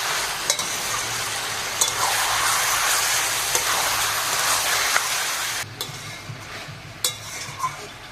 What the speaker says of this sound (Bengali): যতক্ষণ মাংসটা কষা হোক